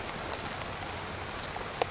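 Steady, fairly quiet rainfall spattering on a surface, a continuous broadband hiss with one brief louder drip or tap near the end and no voices.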